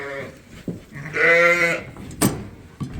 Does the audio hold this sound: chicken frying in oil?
no